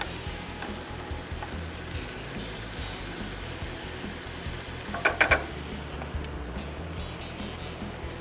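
Onions frying in a pan with a tenderloin nearby give a steady, moderate sizzle throughout, with a brief cluster of sharper crackles or utensil clicks around the middle.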